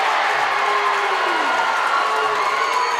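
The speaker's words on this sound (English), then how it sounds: "Husky fans standing on their feet to applaud the call" Basketball fans at a boys' high school championship game stand and applaud a referee's offensive-foul call, a loud, steady roar of clapping and crowd noise filling the gym without a break.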